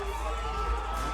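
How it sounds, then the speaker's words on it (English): A large audience at the 2015 Mr Olympia bodybuilding contest cheers and shouts in a steady roar that swells briefly near the end, with voices mixed into the noise. "The crowd into it, egging him on."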